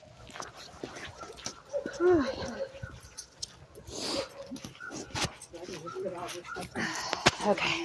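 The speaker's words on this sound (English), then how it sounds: "there's animals everywhere out here. You can hear them barking and growling" Dogs at an outdoor animal shelter whimper and give short yips at close range, breaking through a near voice that talks over most of the stretch.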